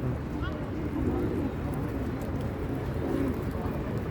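A runaway homing pigeon eating bread outdoors, with soft low cooing heard near the start and again near the end under steady background noise.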